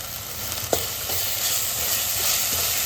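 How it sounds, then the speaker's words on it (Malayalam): Spices frying in a pan for a fish rasam crackle and sizzle steadily while a spoon stirs them, with a sharp scrape or tap near the start and soft stirring scrapes throughout. "പച്ച സ്മെല്ല് പോകുന്നിടം വരെ ഒന്ന് നമ്മൾ ഇളക്കി കൊടുക്കണം"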